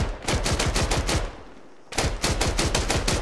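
Rapid bursts of automatic gunfire from the player's weapon in the military shooter Antistasi, two loud volleys of closely spaced shots separated by a short pause.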